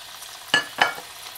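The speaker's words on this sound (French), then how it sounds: "Et je mets comme ça mon oignon mélangé avec de l'ail." Chopped onion mixed with garlic dropped into a hot pan, two short bursts of sizzling and stirring close by, with quiet gaps between them.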